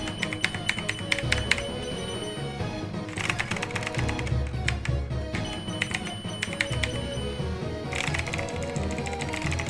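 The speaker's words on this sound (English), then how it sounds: "I'll move the mic closer to my keyboard so you can become deaf from the sound of my clicking" A computer keyboard with the microphone moved close, clattering with rapid, loud clicky keystrokes in uneven bursts over a busy background of game music.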